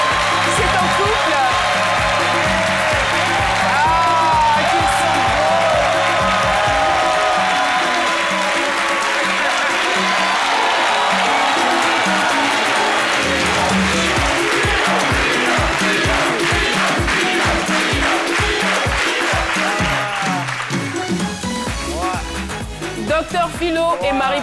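A French television studio audience applauds loudly and steadily as guests arrive on set, with cheering mixed in and a host speaking over the clapping.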